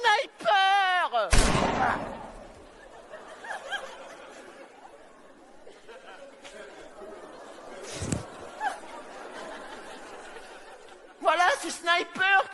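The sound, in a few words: voice imitating sniper gunfire in a guessing game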